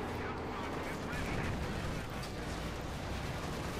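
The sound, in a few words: KV-8 tank firing at Panzer IV in Company of Heroes 2 video game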